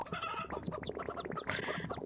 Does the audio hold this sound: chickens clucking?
yes